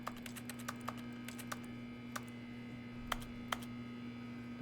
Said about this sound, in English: you can hear how fast, like how often I'm clicking on stuff